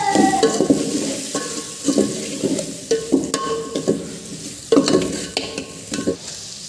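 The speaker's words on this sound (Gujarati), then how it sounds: "લાલ મરચું છે નાખી દઈએ ચાલો હવે આપણે ફેરવી નાખશું" Spiny gourd (kankoda) curry frying with red chili powder in a pan, stirred by hand: repeated clattering scrapes of a spoon against the metal over a steady sizzle, close and fairly loud.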